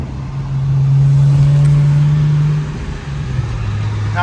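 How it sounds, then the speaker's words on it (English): Vehicle driving on a test drive after repairs, its engine humming steadily up close with a sustained tone that shifts partway through, loud and without talk. "Little test drive before you turn in the G."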